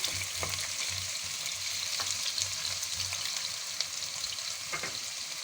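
Sliced onion sautés gently in hot oil for a tuna pizza topping, a steady close sizzle with occasional stirring scrapes, no talking.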